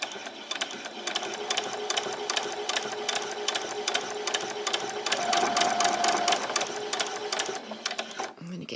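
A sewing machine runs steadily while stitching handbag fabric, its rapid needle ticks continuing for several seconds with a brief burst of back stitches near the end, close and fairly loud.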